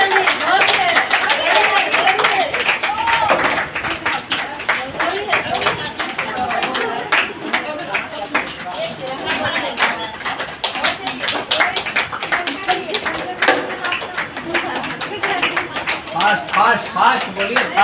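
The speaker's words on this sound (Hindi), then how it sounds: "चलिए ताली बजाइए आप लोग," An audience claps along during a timed financial-awareness game, steady dense clapping running throughout, loud and close, with voices and chatter mixed in underneath.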